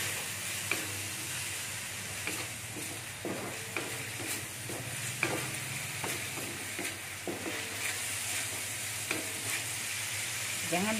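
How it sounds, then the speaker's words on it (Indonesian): Green beans and garlic stir-fried in a pan give a steady close sizzle, with repeated scraping and clacking strokes of a spatula throughout and no talking. "Tumis sampai sayurnya matang."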